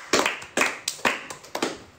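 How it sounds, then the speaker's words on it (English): Hand clapping for performers on a music show live-streamed on Kumu: about five sharp, evenly spaced claps, close and fairly quiet, with no talking. "let's give them a round of applause."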